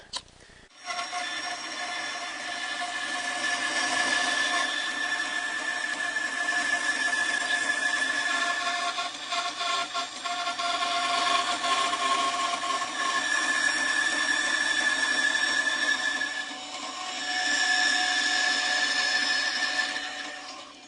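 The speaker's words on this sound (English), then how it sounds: "And I'm going to do that on the bandsaw." A bandsaw cuts triangles out of a wooden dovetail template, giving a steady, fairly loud machine whine for about twenty seconds after a short start, with slight shifts in tone as the blade works through the wood.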